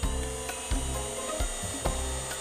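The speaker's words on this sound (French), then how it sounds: "Lors du perçage de ce panneau" A drill bores through a wooden panel, its steady whine running throughout with a few brief bumps in load, close and loud with no voices.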